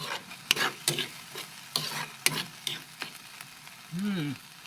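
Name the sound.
corned beef and tomatoes sautéing in a pan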